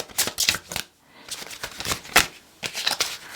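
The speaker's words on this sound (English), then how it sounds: "They're quite difficult to shuffle." A deck of tarot cards being shuffled by hand in bursts of riffling and sliding, with a brief pause partway through, close and fairly loud, no talking.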